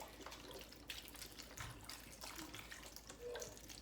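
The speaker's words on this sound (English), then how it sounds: "I'm gonna fill some water in here after the fact." Tap water runs into a roasting pan with chicken stock for a whole chicken oven dinner, a soft steady trickle and splash heard alone and fairly faint.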